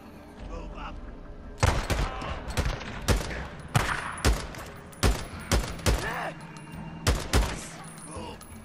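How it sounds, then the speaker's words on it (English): A shootout in the video game Days Gone, about a dozen loud, sharp gunshots fired singly and in short pairs at irregular intervals, close and punchy over a low background rumble. "We're having a gunfight and there's just zombies everywhere."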